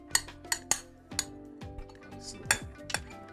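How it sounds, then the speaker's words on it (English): A utensil scrapes roasted peanuts out into a preheated metal pot, giving sharp metallic clinks and scraping strokes in an irregular series, close and clear, with no voices. "Scrape it out nice."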